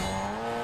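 A car drives in the Call of Duty video game, its steady engine hum tinged with tire noise and no break over a very short moment.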